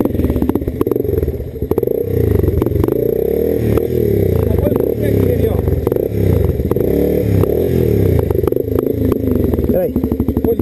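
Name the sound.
motorcycle revving and climbing up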